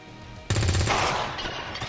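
Rapid automatic gunfire in the video game XCOM 2, a sudden loud burst that rattles on and then trails into an echoing decay, no talk.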